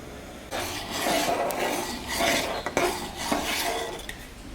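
Soaked sago is added to milk in a cooking pot for sago payesh and stirred, producing close metallic scrapes and clinks of a spoon against the pot in uneven strokes.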